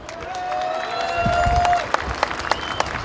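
A crowd at a Missouri Freedom Rally applauds and cheers as the state attorney general is welcomed; dense, steady clapping swells and holds, with a sustained whistle-like tone early and a few sharp claps standing out near the end.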